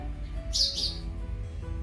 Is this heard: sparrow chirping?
yes